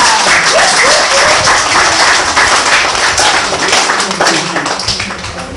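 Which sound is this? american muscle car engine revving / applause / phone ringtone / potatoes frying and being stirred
applause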